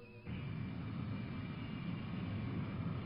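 Cartoon aircraft preparing to land: a low, steady engine drone kicks in after a brief quieter moment and holds evenly, fairly faint.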